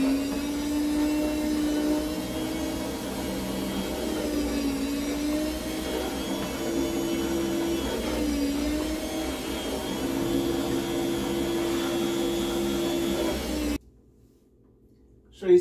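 A jerky slicing machine cuts venison with a steady, loud motorized whir that holds for about fourteen seconds before cutting out into near silence.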